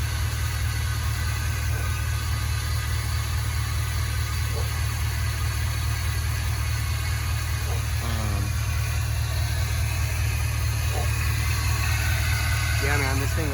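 A 2001 Chevy Silverado 2500HD 4x4 work truck with a utility bed and 3-inch lift runs steadily at idle, a constant low engine drone that carries through the whole stretch while someone talks over it.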